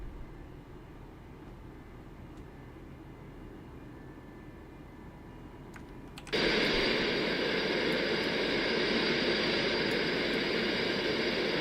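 Concorde jet engines in a flight simulator, a steady low rumble that abruptly jumps to a loud, broad roaring hiss partway through and holds there.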